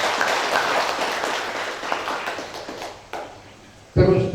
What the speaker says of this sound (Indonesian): Tepuk tangan dulu sama beliau.